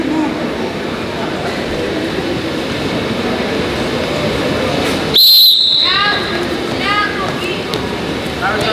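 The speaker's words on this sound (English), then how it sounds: "On the whistle, you move." A sharp referee's whistle blast cuts through the noisy crowd and voices in a wrestling gym, a single short burst rising loud above the steady background chatter.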